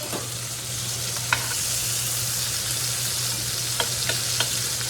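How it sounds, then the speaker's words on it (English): Butter and onions sizzle and fry steadily in a pan, a continuous close crackling hiss with a few faint stirring clinks of a spoon. "Nice chunk of butter. I'm going to drop that right in."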